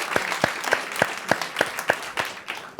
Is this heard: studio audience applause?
yes